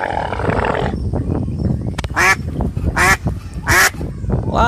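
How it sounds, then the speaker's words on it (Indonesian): A white duck gives several loud, harsh quacks in a burst over a busy, noisy background of other animal and outdoor sounds. "Wah, bebek warna putih."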